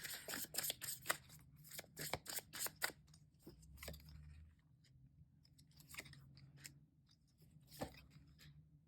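Tarot cards drawn and shuffled up close, a busy run of crisp flicks, snaps and riffling taps in irregular clusters, quiet and unaccompanied by talk.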